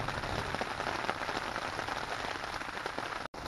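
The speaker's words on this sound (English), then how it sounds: "There's tiny little pieces of hail out there." Rain mixed with tiny pieces of hail patters steadily at a campsite, a dense even hiss of small impacts close by, briefly cut off near the end.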